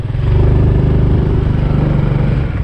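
A motorcycle engine runs steadily at close range, a loud low-pitched throbbing drone with a slightly uneven, rough note, with no talk over it.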